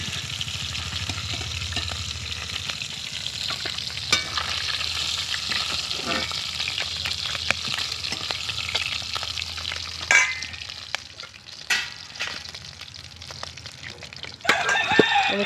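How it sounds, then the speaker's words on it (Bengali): Fish heads, broken into pieces, frying in oil for a Bengali spinach dish, a steady close sizzle with occasional stirring clicks and scrapes; no one talks. "ওই মাছের মাথাটা দেখো এবার ভেঙে দিয়ে ভেজে নিয়েছি।"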